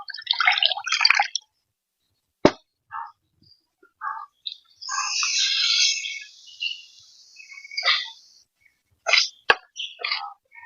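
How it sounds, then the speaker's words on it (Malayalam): Water poured over ground coconut to rinse it while making a Kerala-style hotel fish curry, heard as a sustained splashing pour in the middle, with short clatters and knocks before and after. "അതിൽ കുറച്ച് വെള്ളമൊക്കെ ഒഴിച്ച് നമുക്കിത് കഴുകിയെടുക്കാം"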